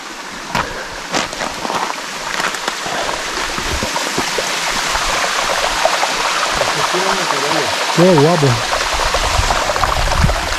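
A mountain stream rushes steadily along the GR20 trail in Corsica, a close, loud wash of flowing water heard throughout while a person speaks briefly over it.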